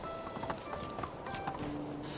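A horse's hooves clip-clop softly in the video game Medieval Dynasty 2, a light irregular patter of steps followed by a sudden loud noisy burst at the end.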